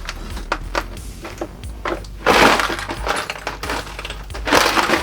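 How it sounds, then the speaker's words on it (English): Small metal bits such as screws, nuts and nails clatter and rattle in repeated jangling bursts, loud and close. "it sounds like screws and nuts and bolts and nails and junk like that"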